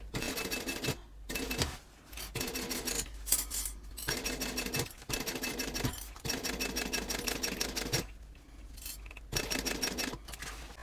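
A sewing machine fitted with a zipper foot stitches along an edge of a craft project in short, rapid mechanical bursts, each run of chattering needle strokes separated by brief pauses, close and fairly quiet with no talking.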